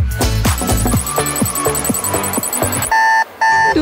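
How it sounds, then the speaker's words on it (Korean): An alarm clock ringing after a late college party night, a rapid metallic bell rattle that gives way to loud repeated electronic beeps, near and insistent, alone without voices. "누가 알람 좀 꺼줘."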